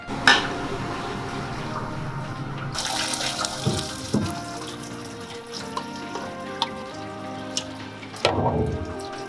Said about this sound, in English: We're gonna strain them because the more you leave them longer in the water, they'll keep on cooking.